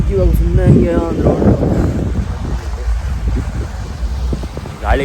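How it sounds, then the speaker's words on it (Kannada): Strong wind blowing at Pattaya, Thailand, buffeting the microphone with loud low gusts, while a person speaks over it in the opening seconds. "ಗಾಳಿ ಕೇಳಿಸ್ತೈತೆ ಏನೋ ಗೊತ್ತಿಲ್ಲ ನಿಮಗೆ, ಯಾಕಂದರೆ ಇಲ್ಲಿ ಗಾಳಿ ತುಂಬ ಇದೆ"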